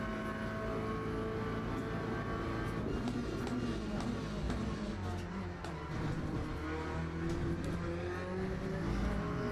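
A race car engine roars steadily from the cockpit in the racing game Le Mans Ultimate, the revs rising and falling as the throttle is worked hard on a chicane exit. The tone stays loud and unbroken with no talk.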